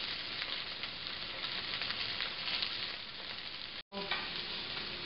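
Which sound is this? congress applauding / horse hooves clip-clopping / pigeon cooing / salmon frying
salmon frying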